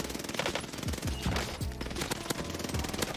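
Rapid automatic gunfire rattles through a Warzone video game match in dense, repeated bursts, loud and close, with faint sounds behind it.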